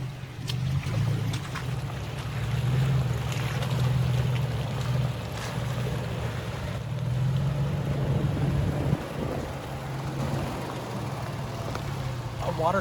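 A vehicle drives through Coyote Creek at a water crossing in the Anza Borrego Desert. The engine rumbles steadily and close for about thirteen seconds while water swishes and splashes under the wheels.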